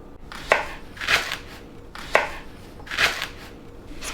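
A knife slices through leeks on a cutting board in a steady rhythm, four distinct crunchy cuts each ending in a board knock, close and clear with no talking.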